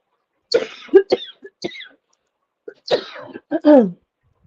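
Several harsh coughs and throat-clearing bursts from someone with pollen allergies, one group early and another after a short pause, with no talking.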